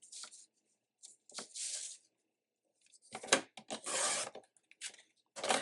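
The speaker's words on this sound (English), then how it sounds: "we will cut 3-inch strips" Paper sheet being cut into 3-inch strips for a DIY hand cream gift box, giving several brief raspy cutting and rustling bursts separated by short pauses, close and moderately loud, with no talking.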